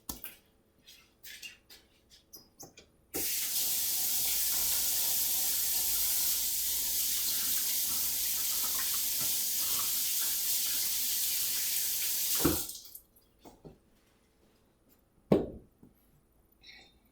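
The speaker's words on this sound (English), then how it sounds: "Let me go wash my hands first." A kitchen tap runs in a steady, close gush of water for about nine seconds, with a few soft clicks and knocks before it starts and after it shuts off.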